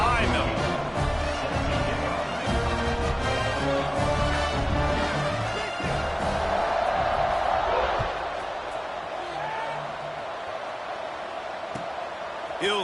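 A college football stadium crowd roars steadily before kickoff, a dense far-off wash of cheering beneath a commentator's running talk, easing slightly toward the end.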